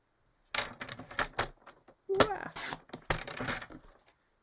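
A paper cutter slices through paper, several sharp close chops and rustles in uneven bursts, with a voice briefly heard among them.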